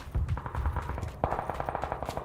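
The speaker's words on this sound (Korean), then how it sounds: "우리 오른쪽에 총소리 났으니까" Rapid bursts of automatic gunfire in a video game crackle in quick succession at moderate distance, with a brief louder volley midway; no talking.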